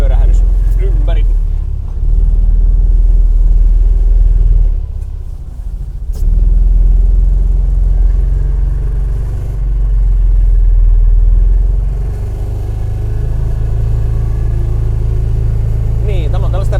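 An ATV with an enclosed cab rumbles loudly at close range as it drives and turns around, its engine note dipping and rising, with low, muffled talk over it.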